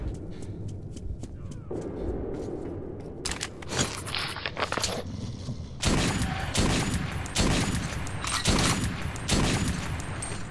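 Gunfire from the player's weapon in the video game Metro 2033, a string of sharp shots and bursts with clattering between them, loud and close, building in density toward the end.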